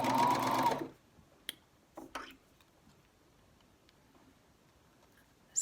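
A sewing machine stitching face masks runs in a short, loud burst at the start, then stops, leaving a few faint clicks and handling noises in a quiet room.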